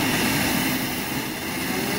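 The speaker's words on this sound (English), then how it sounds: "You type in T1 to activate the router." A CNC router spindle runs at full speed, a steady, loud broadband whine and rush that holds constant throughout with no talking.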